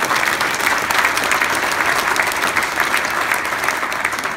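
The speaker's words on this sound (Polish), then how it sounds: "Niech wybrzmią te brawa, niech wybrzmią." Audience applause fills an award ceremony hall for a main prize presentation, a dense, steady roar of many hands clapping at an even, full loudness throughout.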